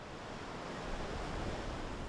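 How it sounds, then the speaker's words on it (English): Rough Indian Ocean surf breaking against the eroded basalt rocks below Tanah Lot temple in Bali, a continuous loud wash of crashing water with wind noise and no talking. "as it faces the rough waves coming from the Indian Ocean"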